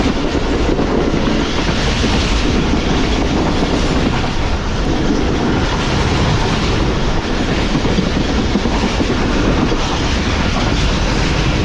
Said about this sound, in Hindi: हमारी ट्रेन जो यहाँ से थ्रू पास कर रही है